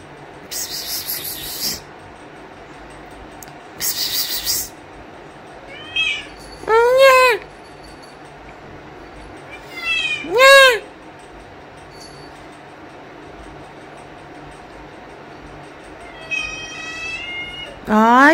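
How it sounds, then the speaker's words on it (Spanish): A cat meows repeatedly and close by, giving several drawn-out meows with rising and falling pitch, spaced apart by pauses. Short bursts of hissy noise come through in between. "¡Gato!"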